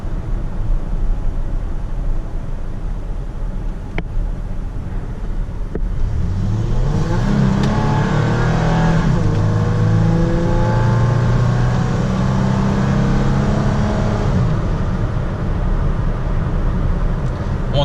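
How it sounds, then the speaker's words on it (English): A Toyota Tacoma TRD pickup with 71K miles downshifts to second gear and accelerates hard, its engine note climbing in a loud, rising roar over steady road and cabin noise, heard from inside the cab. "slow down and have this thing drop down to second gear for a hard acceleration"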